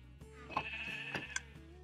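A sheep in a video game bleats a few times while a dispenser shears it. The bleats are short and mid-distance over faint background ambience, and no one speaks.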